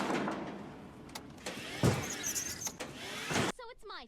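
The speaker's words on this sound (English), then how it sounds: "It just sounded like a car trying to back into a spot." Cartoon boat engine with a whirring, car-like sound like a vehicle reversing into a spot, rising and falling in short bursts and ending in a warbling electronic wobble.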